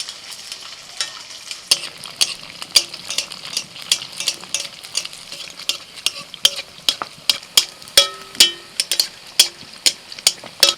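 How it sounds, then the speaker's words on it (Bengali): Paneer balls deep-fry in plenty of hot oil with a soft, steady sizzle. Sharp metallic clicks and scrapes from a spoon or ladle turning them come more and more often toward the end. No one speaks. "তেল ভালোভাবে গরম করে নিয়ে এবার এক একটা বল ছেড়ে দিচ্ছি।"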